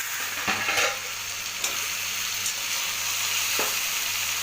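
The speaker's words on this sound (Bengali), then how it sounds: "আলুটা লাল লাল করে ভাজার জন্য" Potatoes fry in a pan for curry-style browning, a steady close hiss of sizzling oil broken by a few sharp clinks and scrapes of stirring, with no voices.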